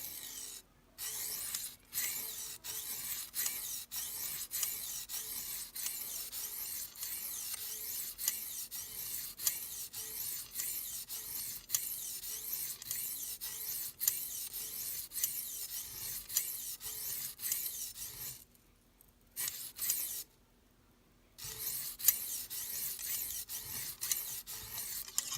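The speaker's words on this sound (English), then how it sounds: "Start at one end of the stone and just scrape down here." A knife blade scrapes along a Lansky Arkansas sharpening stone in a steady string of faint, close, dry rasping strokes, with two short silent breaks near the end.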